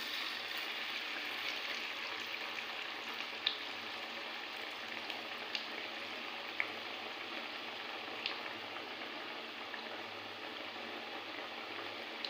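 Bread slices coated in gram flour batter fry in hot white oil in a kadai, giving a faint, steady sizzle with occasional soft pops.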